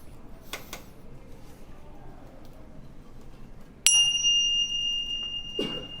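A facilitator rings a set of chimes at a university workshop: one bright metallic strike rings out sustained and slowly fading over a quiet room, with faint clicks and rustling before it.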